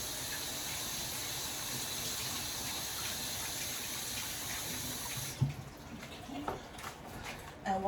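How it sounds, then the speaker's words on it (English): Kitchen tap running steadily for a hand wash, an even close gush that stops abruptly partway through, leaving light clatter and handling sounds. "So let me wash my hands."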